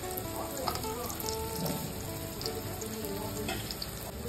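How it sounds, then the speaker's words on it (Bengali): Potatoes frying in hot oil for a Bengali fish curry, giving a dense, crackling sizzle that stays fairly even, with small bursts of popping throughout and no speech. "এবার আমি ওই তেলের মধ্যে আলুগুলো ভেজে নিচ্ছি।"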